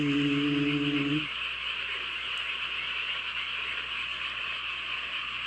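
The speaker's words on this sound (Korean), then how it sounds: "시청자 여러분들 개구리 소리 잘 들으시고요." Frogs croak in a steady chorus on a rural countryside night, a dense continuous trilling that fills the background with no talk, after a brief low tonal hum at the start.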